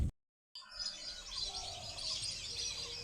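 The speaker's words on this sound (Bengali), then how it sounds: "কত পাখি দেখো পাখির ডাক শুনতে পাচ্ছ তো দেখাচ্ছি" Birds call outdoors on a foggy morning, with ducks among the flocks passing overhead, giving a steady wash of chirps and calls that follows a brief dropout at the start.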